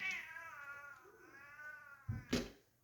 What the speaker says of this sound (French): le chat qui est avec nous